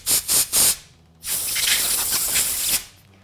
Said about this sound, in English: So we'll spray it out with our carburetor cleaner